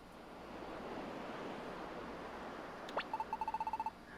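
Sea waves wash in a steady, soft surf roar in the Pokemon Mystery Dungeon DX game, followed near the end by a short bright chime and a quick run of beeping tones.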